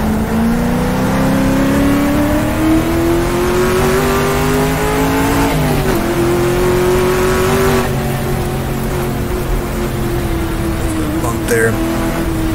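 A 1966 sports car races flat out through street circuit in the GTR2 racing game, its engine droning loud and steady at high revs with a rising pitch, a brief gear-change dip midway and a light tire squeal, with someone talking over it.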